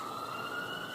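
A police siren wails steadily with a sustained high tone, loud and continuous for the whole second, no voices over it.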